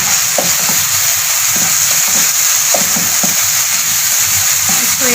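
Chicken frying in hot oil for Chicken Manchurian, a loud, close, continuous sizzle with occasional stirring scrapes and no talking.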